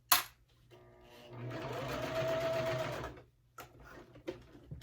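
A sewing machine stitches through waterproof canvas for a bag, with a short burst of whirring and then a longer steady run that stops abruptly, followed by faint handling clicks.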